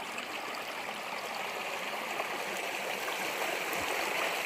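A mountain spring stream flows steadily out of the ground in a backyard, a continuous close rushing and trickling of water with no voices.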